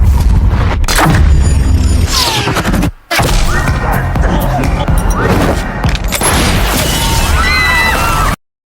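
Rapid bursts of automatic gunfire mixed with crashes and impacts, loud and dense, in a busy action-film soundtrack set in a Tokyo nightclub, with a brief silent gap early on.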